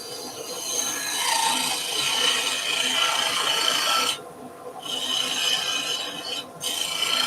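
Steady rasping scrape of a tool against a spinning resin and banksia apple blank on a wood lathe, continuous and fairly loud with two brief pauses where the cutting stops.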